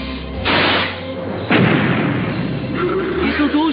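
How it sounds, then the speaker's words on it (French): Cartoon laser cannons on a T-Rex fire in two bursts, with a roaring blast and a sharp crack, set against a rumbling background under a few whooshing effects. "Ces canons laser peuvent détruire n'importe quel objectif."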